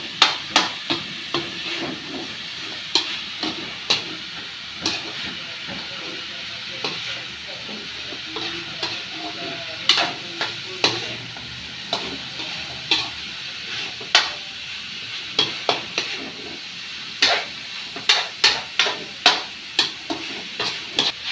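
Bamboo shoot adobo with soy sauce being stirred and pressed in a pan, with a soft steady sizzle under a series of sharp utensil knocks against the pan that bunch up toward the end, close and clear, no voices.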